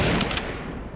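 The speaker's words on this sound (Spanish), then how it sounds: "Creo que hay disparos." Rapid bursts of gunfire in Fortnite during a fight, dense overlapping shots over the whole second, loud and close with no talk.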